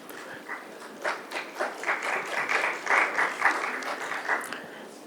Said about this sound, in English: Thank you very much for the question and the round of applause